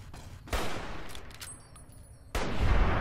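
Gunfire from a raider's laser rifle in the Fallout: New Vegas video game, with rapid bursts of shots in two loud stretches, a quieter gap between them, and some brief high electronic tones.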